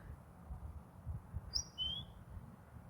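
A bird in an evening park gives two quick, high chirps close by. The calls sound clearly over a low, rumbling background.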